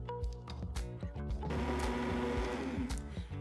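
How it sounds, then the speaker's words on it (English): A close immersion blender mixing lotion whirs steadily after a few seconds of clattering, a continuous motor hum that holds to the end. "using an immersion blender will give you better results"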